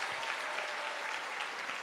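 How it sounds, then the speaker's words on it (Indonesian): Sustained applause fills a morning prayer service at church, a dense, steady wash of clapping from the congregation, even in level throughout with no voices breaking through. "Tepuk tangan yang keras buat Yesus."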